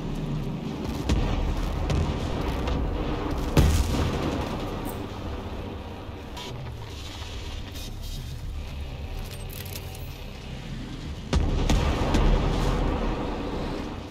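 A Behemoth fires its weapons in Ghost Recon Breakpoint, a loud continuous barrage of rumbling blasts and clattering bursts, with sharp booms near the start and again toward the end.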